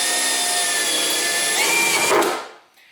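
A power drill bores a hole during a rear wing install on an S550 Mustang, whirring steadily and loud up close before spinning down and stopping near the end.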